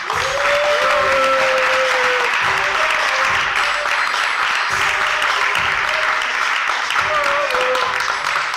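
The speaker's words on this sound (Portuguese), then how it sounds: "uma grande salva de palmas, o Gustavo." An audience at a stand-up comedy show gives a comedian a loud, sustained round of applause with cheering, while a voice speaks over the clapping throughout.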